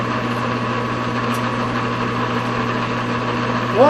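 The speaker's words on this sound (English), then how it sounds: "The gear train of this one's getting noisy anyway." A noisy lathe gear train running in an outdoor shop, a steady droning hum with strong low tonal whine and a constant mechanical buzz, unchanging and close, with a short rising squeal at the very end.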